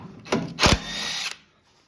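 A power tool spinning off a 14 mm head bolt from the transmission mount on a Toyota Tundra, a short loud burst of whirring with a ratcheting rattle, close by and alone.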